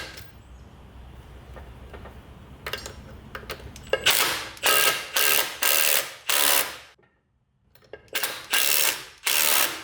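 A ratchet tightens the drive shaft bolts on a Mazda FC RX7. It gives loud, close bursts of rapid clicking, repeated about eight times in short strokes with one brief silent pause.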